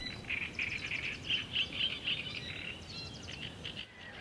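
Wetland birds call around fish ponds that draw egrets, spoonbills, night herons and gulls, a run of repeated high chirps and twitters, moderately near, over a soft steady background with no talking.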